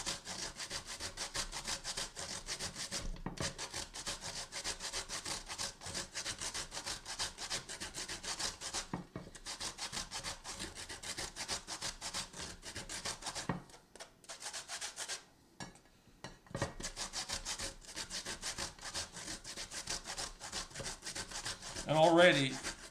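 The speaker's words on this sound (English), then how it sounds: "you want to just start to grate that against the grater" Horseradish root is rubbed against a cheese grater in a long run of quick, repeated rasping strokes. The scraping is close but quiet, with a few brief pauses.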